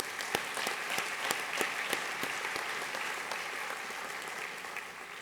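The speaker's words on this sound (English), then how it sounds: "How about a round of applause for those folks?" Audience clapping at the DCS awards ceremony, a room full of people applauding steadily with a few sharp individual claps standing out early, then easing slightly as it continues.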